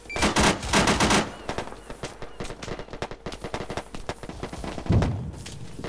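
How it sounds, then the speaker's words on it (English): Loud, close rifle and machine-gun fire in the military video game ArmA 3, dense rapid bursts early then scattered repeated shots with occasional heavier thumps. "Or maybe that was them shooting."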